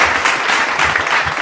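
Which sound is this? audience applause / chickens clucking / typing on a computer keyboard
audience applause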